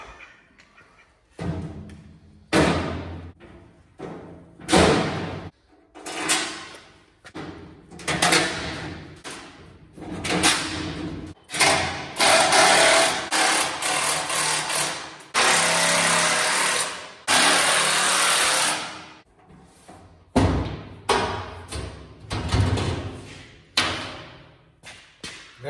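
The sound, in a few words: power tool bolting tongue box onto trailer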